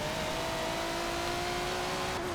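Race car engine in Forza Motorsport 7 accelerating hard, a steady loud sustained drone with a rising tone held throughout, no talk.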